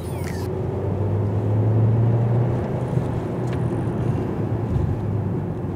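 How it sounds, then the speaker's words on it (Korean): A Hyundai Grandeur 1.6 hybrid accelerates in sport mode, heard from inside as a steady, fairly loud low drone of engine and road noise with a subdued, smooth rise. "지금 스포츠 모드를 넣고 가속 페달을 꾹 밟아도 튀어나간다는 느낌보다는 굉장히 차분하게 간다."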